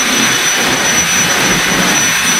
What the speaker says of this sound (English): You did not see me vacuuming a floor.